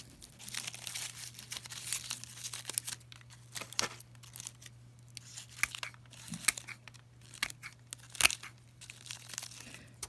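Old roots of a Catasetum orchid being trimmed away, producing faint, close crinkling and crackling snips and tearing rustles in an irregular patter, with a low steady hum underneath.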